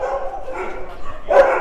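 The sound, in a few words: dog barking at Soi Dog shelter in Phuket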